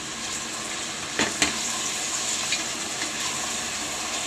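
Mixed vegetables for a vegetable pulao, beans and peas among them, sauté in a pan with a soft, steady sizzle, broken by a couple of sharp stirring scrapes, quiet and close, with no voices.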